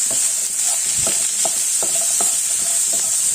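Sliced small onions and shallots sautéing in a pan, a constant close hiss of frying with soft rhythmic scrapes of a spoon stirring through them.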